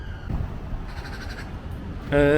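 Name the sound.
magpies calling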